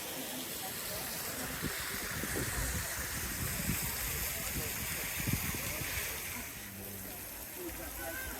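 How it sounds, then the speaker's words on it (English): Waterfall at Lower Emerald Pool in Zion National Park, a steady broadband rush of falling water, moderately distant and fairly faint, with voices and footsteps mixed in. "Nice waterfall up here."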